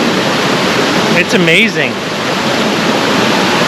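Steady broadband rush of water at the top of a waterfall reached by climbing over rocks, loud and continuous throughout, with a person briefly talking over it.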